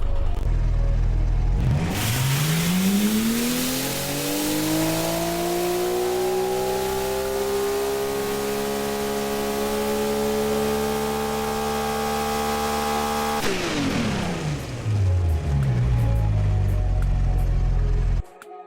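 Engine revving in the BeamNG.drive driving game: a loud, sustained run-up as the pitch climbs and holds high for about ten seconds, then drops back to a lower idle, with no talking over it.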